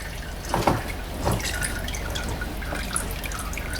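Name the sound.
oil dripping from Lexus RX400h oil filter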